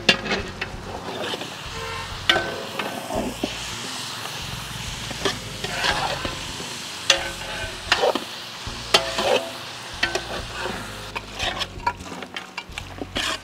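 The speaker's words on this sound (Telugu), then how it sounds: "దీంట్లోనే మనం ముందుగానే వాష్ చేసి పెట్టుకున్న మటన్ యాడ్ చేద్దాం" Mutton sizzles in hot oil with ginger garlic paste in a pan while being stirred, with steady frying hiss broken by frequent scraping and clinking of a spoon against the pot.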